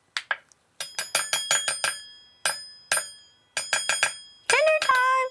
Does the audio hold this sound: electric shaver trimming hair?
no